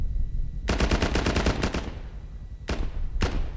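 Arma 3 gunfire: a fast automatic burst of about a dozen close, loud shots, then a pause and two more single heavy reports, with no talking.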